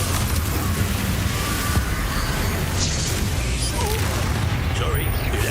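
Confringo fire spell explosions in the Hogwarts Legacy video game, a loud sustained roar of booming blasts and crackling bursts, heavy in the low end, with voices mixed in among the combat noise.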